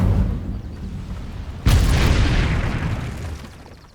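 The Incendio fire spell cast in Hogwarts Legacy erupts as a sudden loud whooshing burst that roars and then slowly fades out, following a low rumbling bed of game sound.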